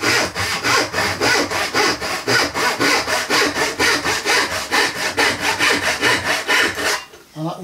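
A hand saw cuts through wood in steady full strokes, a rhythmic rasping back and forth at about three strokes per second, loud and close, stopping near the end.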